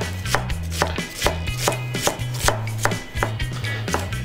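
A knife chops iceberg lettuce into thin strips rapidly on a cutting board, steady rhythmic strokes close by, crisp and regular, with no talking.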